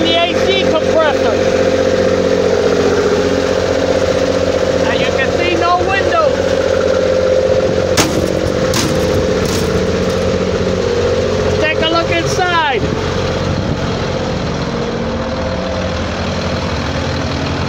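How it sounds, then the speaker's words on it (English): The diesel engine of a 2004 Blue Bird All American bus used for prisoner transport idles steadily while running the AC compressor, a loud continuous low rumble with a few brief clicks and rattles over it. "So this is a diesel engine and it's running the AC compressor."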